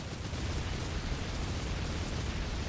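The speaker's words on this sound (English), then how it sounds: "The traditional, we explode into nothing." Explosion effect from the video game Shantae and the Pirate's Curse, a dense, steady rumbling burst that holds at full loudness for nearly three seconds with no voices over it.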